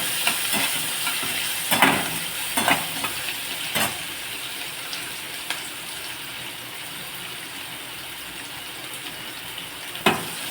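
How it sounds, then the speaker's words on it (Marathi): Tomato and onion sautéing in two spoons of oil for a guar bean dish, giving a steady soft sizzle with occasional louder stirring scrapes near the start and end. "आपण आता टोमॅटो, कांदा, त्याच्यात 2 चमचे तेल टाकलं आहे, परतून घेतला आहे"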